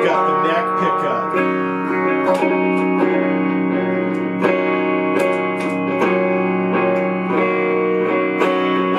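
Vintage 1960s Teisco hollow-body electric guitar played through its neck pickup, strummed chords and picked notes ringing with a warm, slightly driven tone, sustained and close.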